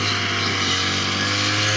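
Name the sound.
grass cutter engine running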